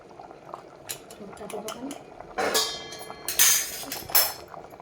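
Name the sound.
water boiling in pot for khichdi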